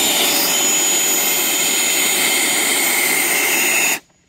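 A Freewing F-16 RC jet with a 90mm electric ducted fan screams loudly and steadily at close range, a sustained high-pitched whine that cuts off abruptly near the end.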